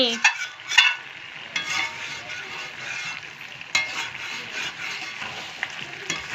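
Goose meat sautéed and stirred in a pan, a moderate frying sizzle broken by periodic scraping stirs and spatula knocks against the pan, close and without talk.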